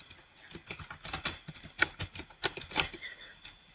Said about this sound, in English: let's use the keyboard, type